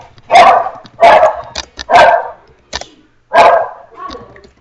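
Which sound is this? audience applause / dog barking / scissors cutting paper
dog barking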